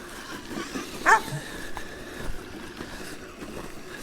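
Outdoors on a snowy day, a dog gives a short, sharp bark a little way off, standing out briefly above a steady background hum; no one speaks.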